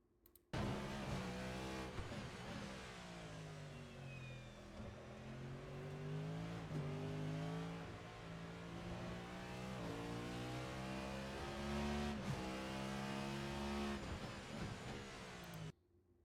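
Cadillac V-Series.R race car in a racing video game, engine screaming at full speed around Bahrain, rising and falling through repeated upshifts and downshifts over a long continuous run, loud and close with no talk.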